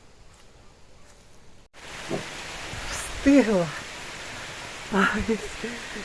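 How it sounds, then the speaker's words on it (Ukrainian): A sudden rain shower arrives outdoors in a garden, a steady broadband hiss of falling rain rising after a quiet start and continuing under a woman's brief speech. "Різко пішов дощ, різко."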